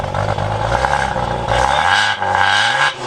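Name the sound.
Maserati Ghibli car engine revving as it accelerates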